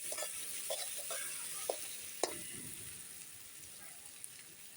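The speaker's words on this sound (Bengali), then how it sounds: "দেখো পেঁয়াজ রসুন ভালো করে ভাজা হয়ে গেছে" Onion and garlic frying in a pan for chicken curry give a soft, steady sizzle, with a few sharp clicks of a spatula stirring. The sound is quiet throughout and has no talking over it.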